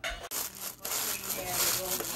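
Saltine crackers are crushed by hand, giving dense crackling, rustling crunches that run almost continuously for two seconds, loud and close, with a brief break early on.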